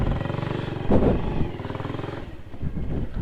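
A 2019 Hi Speed Infinity 150 motorcycle engine starting up close, with a rough rhythmic chug that surges briefly before settling into a steady idle.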